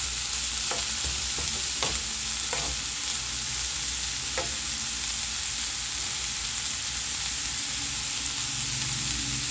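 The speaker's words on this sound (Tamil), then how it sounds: "நல்லா ஒரு 3 நிமிஷம் வதங்கிருச்சு." Tomatoes sautéing in a pan for a radish chutney, a steady close sizzle with a few sharp clicks of a spoon stirring early on, then continuous even frying with no talk.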